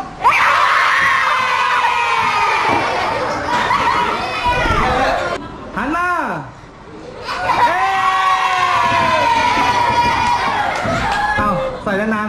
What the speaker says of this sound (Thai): วันนี้มีกิจกรรมใส่แว่นแล้วต้องร้องกรี๊ด